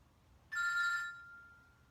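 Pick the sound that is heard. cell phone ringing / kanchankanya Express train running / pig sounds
cell phone ringing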